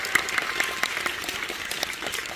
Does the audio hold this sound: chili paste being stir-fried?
no